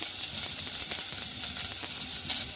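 Chopped medium onion sizzles in hot oil with fried chillies in a pan for a Konkan leafy vegetable dish, giving a steady, soft, close crackling hiss with faint scattered pops and no talk.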